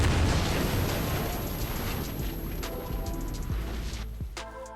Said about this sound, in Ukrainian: А у цієї машини, до речі, інший звук вибуху.